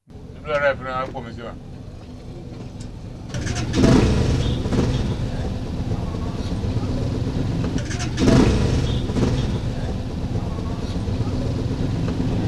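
A car engine in a mechanic's garage starts and revs, swelling into two louder roaring bursts over a steady running drone, with a person speaking over it at the start.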